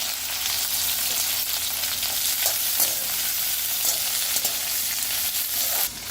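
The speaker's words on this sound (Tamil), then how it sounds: "இப்போ இந்த வெண்டைக்காயை சேர்த்துக்கலாம்." Okra, ladies' finger, frying in a hot pan with a loud, continuous sizzle and occasional stirring scrapes, steady and close throughout with no talking.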